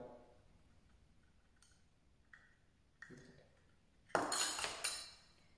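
A spoon clinks against a bowl while oils for an organic body butter are stirred, a few light scattered taps building to a louder burst of scraping and clinking near the end.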